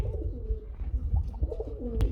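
A black Huma pigeon coos softly several times in short, low, throaty phrases, fairly close, with faint background noise.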